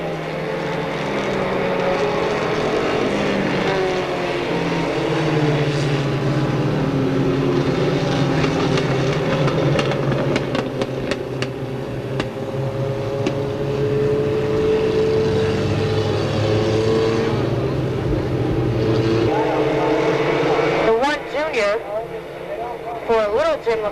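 Stock cars race around the Monadnock Speedway oval at a 1990 weekly event, a loud, continuous engine drone rising and falling as the field circles, with an announcer talking over it throughout.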